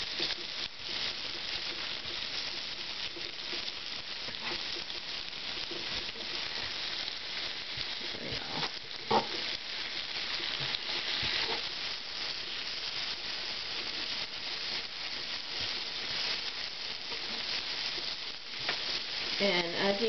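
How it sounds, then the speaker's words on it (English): Bacon fries in a pan, giving a soft, continuous crackling sizzle at low volume, broken by occasional scrapes and clicks as the strips are pushed around. "Now I want the bacon grease spread all over this, so I'm going to move the bacon around a little bit while I'm cooking"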